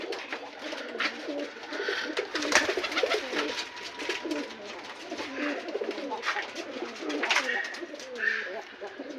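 Many pigeons coo steadily in a rooftop pigeon loft, a dense layered chorus of low rolling coos from birds kept for years, continuing alone throughout with no talk.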